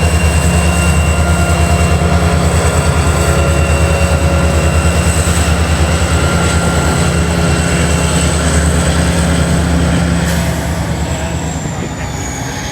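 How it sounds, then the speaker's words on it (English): CN freight led by GP40-2 WL locomotive 9544, built 1975, rumbles past at a Chicago-area rail spot, a loud steady diesel drone with a sustained high whine and continuous wheel noise throughout. "Back at Pine, we get a warm welcome from a CN pull-down. Leading the set is CN 9544, a GP40-2 WL built in"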